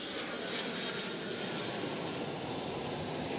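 A fixed-wing airplane passes overhead with a steady, loud broadband engine roar that holds evenly throughout, with no voices.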